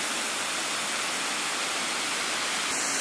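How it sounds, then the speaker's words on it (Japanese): The Shirogane waterfall in Japan roars in a dense, continuous white rush of falling water, steady and loud throughout. "ここにある滝が白金の滝でございます"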